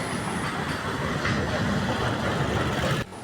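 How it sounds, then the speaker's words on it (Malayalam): A Vande Bharat train passing near the Farakka barrage on the Ganga in West Bengal, a steady loud rail rumble with faint clickety-clack running throughout, cutting off abruptly near the end. "വന്ദേ ഭാരത് പോവുകയാണ്."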